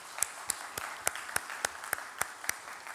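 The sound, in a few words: audience applause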